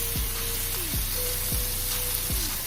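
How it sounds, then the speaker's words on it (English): Red bell pepper sautéing in a pan, with a steady loud sizzle throughout and a repeated low clunk of stirring beneath it, and no talk. "We're just going to saute these just a little bit."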